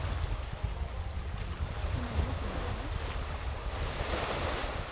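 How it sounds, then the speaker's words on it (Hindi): Wind-driven waves roll across Sapanca lake, giving a continuous soft surf wash mixed with gusty wind buffeting the microphone, moderately loud and unbroken. "ये समंदर नहीं है इट्स अ लेक, और इसके मूवमेंट देखें ऐसे जैसे समंदर का पानी है।"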